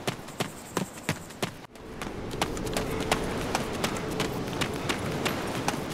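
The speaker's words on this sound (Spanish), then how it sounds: "Así que continuaré corriendo en esa dirección a ver qué encuentro por ahí." Running footsteps in the video game DayZ, a fast, steady run of crisp thuds close by that pause briefly and then resume at the same quick pace over a low background rumble, with no talking.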